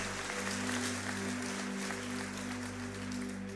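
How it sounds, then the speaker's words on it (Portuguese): A crowd applauds steadily, a continuous wash of clapping over a sustained musical hum. "Aplauda as mulheres merecem"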